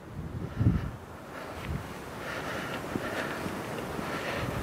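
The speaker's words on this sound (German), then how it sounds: "Da kann der Wind dann natürlich ungehindert angreifen." Wind blowing across open, bare ground in damp weather, a steady broad rushing with microphone buffeting and a stronger gust near the start, no talking.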